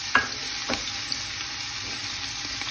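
Onions fry in melted lard in a pot for an Alsatian choucroute, giving a steady, close sizzle with a couple of soft stirring knocks and no talking.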